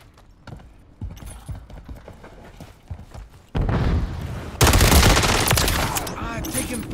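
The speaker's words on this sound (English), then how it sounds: "I'm taking fire, man." Gunfire in a shooter video game: scattered distant single shots and clicks early on, then sudden loud sustained bursts of rapid automatic fire filling the rest, close and dense, with muffled chatter beneath.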